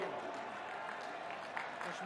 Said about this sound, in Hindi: तालियों से एक बार अभिनंदन कीजिएगा